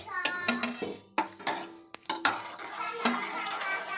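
A spoon stirs fruit custard with grapes, papaya and watermelon in a bowl, making close, irregular scrapes and clinks against the dish with soft squelching in between.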